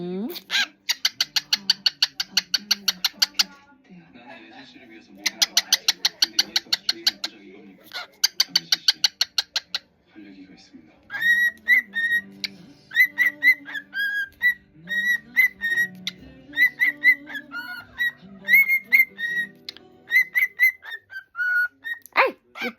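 A pet cockatiel lets out loud, rapid bursts of repeated shrill calls, then shifts into varied chirps and whistled notes, close by, with a person speaking softly now and then.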